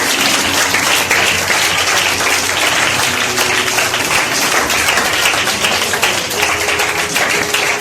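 A church congregation applauds together, dense sustained clapping that fills the space steadily from start to finish, loud and close, with faint background tones and no distinct voices.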